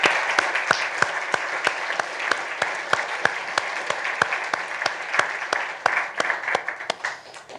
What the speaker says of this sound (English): if we would all please give Paul Rich and Daniel Gutierrez a nice round of